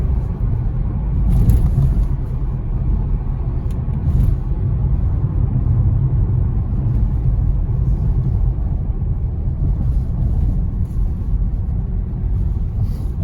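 A steady low rumble of a Seat Leon FR engine and road noise, continuous and fairly loud, with faint higher whirs as the wheels spin without catching on an icy, shaded road.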